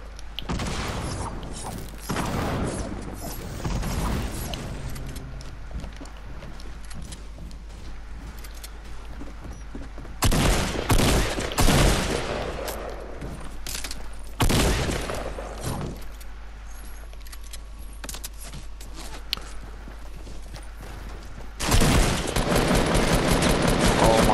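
Bursts of automatic gunfire and scattered shots ring out during a shooter video game, loud clusters alternating with quieter stretches, while players chat over the action.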